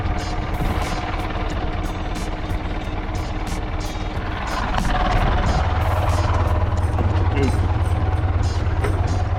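A farm tractor engine runs steadily at a rapeseed harvest, a loud continuous low droning rumble that grows slightly heavier midway, with faint voices in the background.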